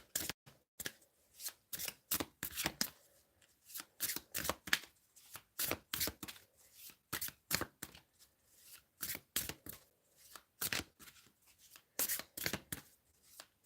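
Tarot cards being shuffled and drawn, a quiet close series of crisp riffling and snapping card sounds in irregular bursts with brief pauses, and no talking.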